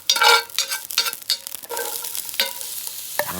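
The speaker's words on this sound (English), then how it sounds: "Oh, I love that sizzle." Lamb stew with onions sizzles and crackles in a hot pan, close and lively, with stirring scrapes and bursts of frying pulsing through the sound.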